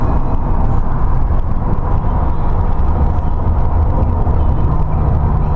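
A supercharged Toyota Crown Royal Saloon GS131 Jubilee Edition with a 1G-GZE engine cruises at about 80 mph, heard from inside as a dense, steady rumble of engine, tyres and wind.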